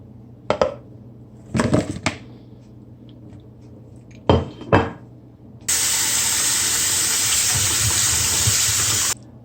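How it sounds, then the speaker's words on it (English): Guava rinsed at a kitchen sink: a few short splashes and clinks of handling, then the tap runs in a steady loud hiss for several seconds before cutting off. "So we're gonna rinse the guava under running water."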